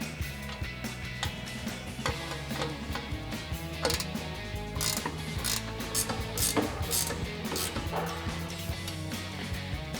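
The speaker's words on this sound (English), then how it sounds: "we can tighten down our hardware using our provided 5mm Allen wrench and a 13mm ratcheting" A 13mm ratcheting wrench tightens hardware on a Barricade HD3 stubby front bumper for a Jeep Wrangler JL, giving a continuous, fast clicking ratchet that runs close and steady throughout.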